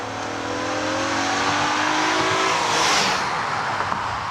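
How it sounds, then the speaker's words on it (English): Engine of a 2014 Acura RDX revs hard under acceleration, a loud rising drone with a high-pitched edge heard from inside the car, steady and building with no talk. "this drivetrain practically shrieks like a Formula One car when you open it up"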